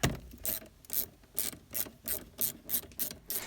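A ratchet clicks in quick repeated bursts, about nine strokes, as a bolt is undone on the heater blower of a Peugeot 107. The clicking is close, crisp and rhythmic, with no talking.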